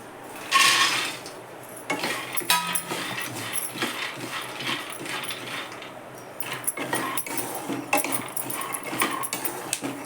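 Peanuts dry-roasting in a pan for a Maharashtrian peanut chutney, giving close, irregular rattling and scraping clatter as the nuts are stirred and tossed, steady throughout with scattered sharper clicks.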